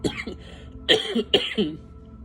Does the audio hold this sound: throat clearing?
yes